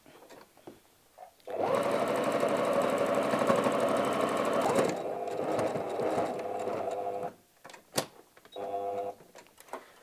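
A sewing machine runs a long, even burst of rapid stitching along the bottom edge of a fabric tablet cover, close and steady, then stops; a shorter burst follows after a small pause with light handling noises.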